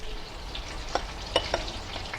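Butter sizzles in hot oil in a pan with a soft, steady crackle and a few small stirring taps, close and quiet, with no voices.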